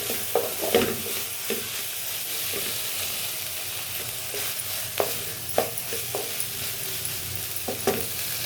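A spoon stirs cluster bean curry in a sizzling pan, with soft scraping strokes at an irregular pace over a steady frying hiss, close up and with no talk.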